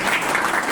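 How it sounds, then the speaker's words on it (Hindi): Brief, steady burst of audience clapping at a farewell party, dense and continuous throughout with no voices standing out. "ताली मार दो भाई से"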